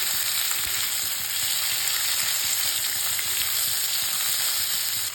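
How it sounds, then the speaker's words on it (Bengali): Spinach, beans and other vegetables frying in a pan while being stirred together, a steady dense sizzle with soft scraping under it, close and loud throughout. "এরপর আমি সব কিছু একসাথে নেড়ে চেড়ে নেব"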